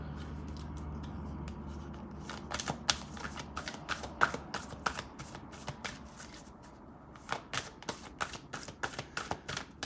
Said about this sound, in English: So let's go ahead and shuffle this Moonology deck to see what energies we have.